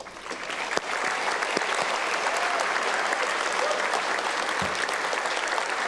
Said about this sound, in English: heartfelt applause.